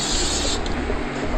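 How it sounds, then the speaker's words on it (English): Cooking spray is sprayed onto a panini press in a kitchen, a short loud hissing burst lasting about half a second, close up with no talking. "So always spray the panini press first so it helps from not sticking."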